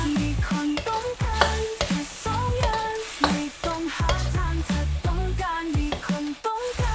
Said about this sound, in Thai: เมื่อเราผัดจนน้ำงวดเสร็จแล้วนะครับ